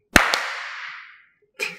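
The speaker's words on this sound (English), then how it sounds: "I'm just going to do a clap for audio sync" A single sharp hand clap rings out close and loud, followed by a second lighter clap and a short decaying ring, then a brief thud near the end.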